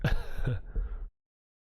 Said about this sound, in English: I'm trying not to cough, so I will be having a coughing fit in a second.